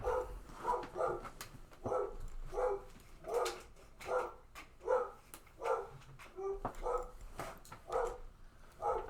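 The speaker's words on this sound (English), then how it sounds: "What is my dog barking at?" A dog barks repeatedly in a steady rhythm, about a dozen sharp barks at moderate distance, with no talking.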